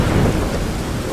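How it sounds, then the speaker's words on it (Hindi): Heavy rain pours down with a deep rumble of thunder in a cartoon village story, a dense, loud, continuous roar of downpour with the thunder swelling at the start, and no voices. "बारिश शुरू।"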